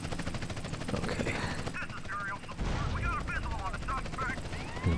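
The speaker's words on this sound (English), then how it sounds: "Even the helicopter's gun has a new fire sound effect in this mod." Rapid bursts of automatic helicopter gunfire from a modded GTA: San Andreas rattle over a droning rotor, with brief voices mixed in, sounding like game audio.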